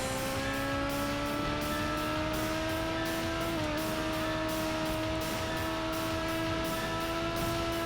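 Race car engine in the Tokyo Road Race video game, a steady droning whine holding pitch and climbing slightly as it accelerates through the gears, loud and continuous with a brief dip partway through.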